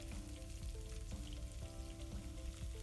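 Three eggs cook into fried rice in a pan, a soft, continuous frying sizzle with faint stirring clicks and a low background hum, fairly quiet, with no talking.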